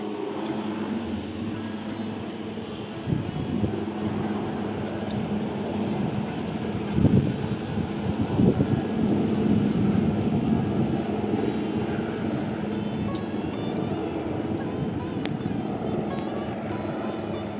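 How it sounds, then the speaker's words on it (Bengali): A helicopter flying overhead, a low droning rumble that swells and fades over several seconds, heard from a rooftop behind trees with background ambience and no speech. "একটা না হেলিকপ্টার এত জোরে জোরে ঘুরছে আওয়াজ হচ্ছে চলো আওয়াজটা তোমরা একটু শুনে নাও"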